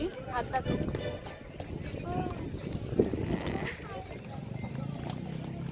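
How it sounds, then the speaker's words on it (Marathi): A horse foal moves about in a village setting, its hooves clip-clopping lightly and unevenly at moderate distance beneath near-constant conversation. "घोड्याचा बेबी आहे"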